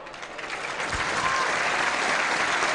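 A football stadium crowd at Burnley versus Stoke City applauds a substituted player leaving the pitch, a broad, swelling wash of clapping from the stands that builds and holds steady.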